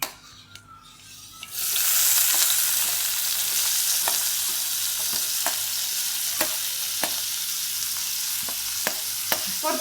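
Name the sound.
vegetables sautéing in hot oil with cumin and mustard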